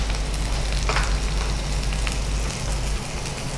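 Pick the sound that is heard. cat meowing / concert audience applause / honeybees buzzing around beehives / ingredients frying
ingredients frying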